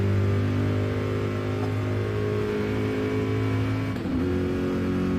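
A Corvette race car engine in a Le Mans 24 Hours endurance racing game holds a loud, sustained high-rev drone with a clear gear-shift dip and quick recovery toward the end.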